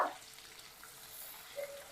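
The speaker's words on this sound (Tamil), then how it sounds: "நல்லா வதக்கிக்கலாம் சின்ன வெங்காயத்தையும்." Sliced shallots sizzle and crackle softly in hot oil while cooking karunai kilangu masiyal, a quiet, continuous frying hiss with a small pop near the end.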